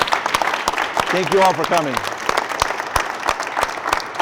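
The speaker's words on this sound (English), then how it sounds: "can everybody give a round of applause, please, to an incredible panelists?" Audience applause for a panel of speakers at a founder-track tech event, steady clapping running through the whole stretch while someone speaks over it.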